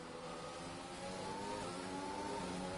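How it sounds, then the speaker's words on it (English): Formula 1 race car engines in the F1 2020 video game at the Japan round, a steady loud revving whine with layered engine tones throughout, no speech. "How quick can G-Dan get by the Ferrari of Andriopoulos here"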